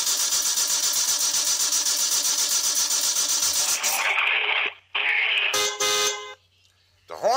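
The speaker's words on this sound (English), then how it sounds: "The horn works, but the car won't start." A car that fails to start sounds its horn, first as a long steady blare over an engine-like hum, then as several shorter honks with brief gaps between them.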